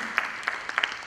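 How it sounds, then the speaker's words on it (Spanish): Thin, sparse applause for a speaker at a notarial law course, a handful of separate claps, soft and somewhat distant. "Démosle un aplauso"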